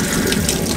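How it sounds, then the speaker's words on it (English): A toilet on a Korean high-speed bullet train flushes in a short, loud, close gush of rushing water, heard alone. "So this pedal is to flush the toilet"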